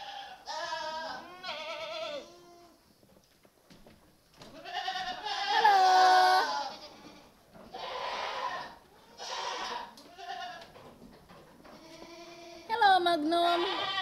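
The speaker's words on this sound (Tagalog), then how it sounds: "Ito yung laging nag-aaway na kambing." Goats on a farm bleating repeatedly in several separate, wavering calls of varying loudness, fairly close, with quiet gaps between them.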